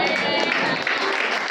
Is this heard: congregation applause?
yes